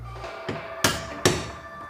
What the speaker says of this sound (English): So I'm gonna take a punch, give it a love tap.